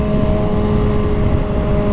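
A Kawasaki Ninja ZX6R sport motorcycle with an M4 slip-on exhaust rides on city streets, its engine a steady loud close whine and rumble with wind noise and no talk.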